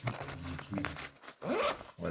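A clothing zipper runs open or shut in a few quick rasping pulls, close and fairly loud, with a voice talking nearby.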